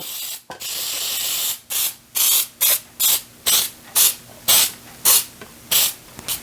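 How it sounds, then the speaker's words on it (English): Baker's Joy flour-and-grease baking spray hisses into a tube pan in about ten short, close, loud bursts with brief gaps between them and no talking. "I'm doing a tube pan, and I'm using my Baker's Joy because it is flour and grease all together"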